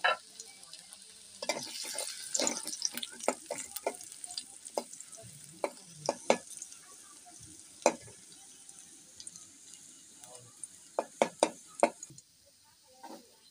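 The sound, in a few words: chopped garlic frying in a pan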